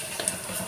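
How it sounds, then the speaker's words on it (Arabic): Vermicelli fries in a pan, a cupful being browned before it goes into a lentil soup, with a steady, soft hissing sizzle and faint stirring scrapes. "معانا هنا كوبايه من الشعريه هنحمرها."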